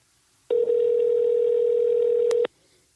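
Telephone call being placed, a single long electronic ringback tone sounding steadily for about two seconds, clear and close, with quiet before and after.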